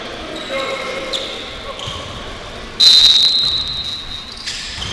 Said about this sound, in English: a whistle behind the play